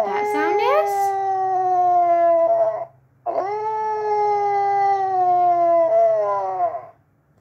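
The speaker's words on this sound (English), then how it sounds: "It was a dog howling." A dog howls in two long, drawn-out wails separated by a short pause, loud and close, with a faint low hum underneath.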